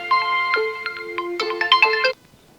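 A mobile phone ringtone plays a bright, melodic electronic tune of repeated notes, fairly close and clear, stopping abruptly after about two seconds.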